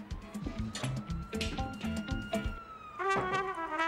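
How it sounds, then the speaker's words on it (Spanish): An ambulance siren wails faintly in the distance, sustained beneath a clatter of indoor noises and music-like tones. "Por Dios, ¿por qué suena una sirena?"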